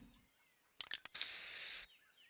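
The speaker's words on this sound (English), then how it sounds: "I heard a spray" Spray paint tag being sprayed in Counter-Strike during a pro ESL Challenger League match on the map Ancient: a few quick rattling hisses followed by a steady, loud spray hiss lasting under a second, standing alone.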